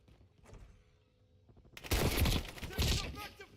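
After a quiet lead-in, a loud close burst of rapid automatic gunfire erupts in a Call of Duty Warzone match, with a second heavy volley following shortly after.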